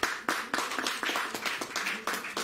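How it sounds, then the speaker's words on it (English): Congregation in a church clapping at a Sunday service to cheer on the Sunday school as they come forward, a steady run of fairly close, sharp claps in an uneven rhythm. "We'll give them a clap,"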